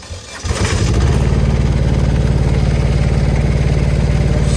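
A Kubota ER211 combine harvester's engine turns over and catches on a rice field, then settles into a loud, steady, rapidly pulsing idle close by, with no talking.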